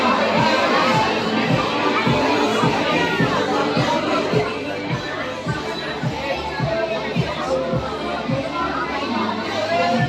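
A dense crowd of BTS fans gathered at an anniversary fan event in Delhi creates a steady, loud roar of overlapping chatter and excited shouts that continues without a break throughout.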